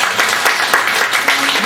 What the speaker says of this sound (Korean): 우리 선생님한테 다시 한 번 더 박수를 부탁드립니다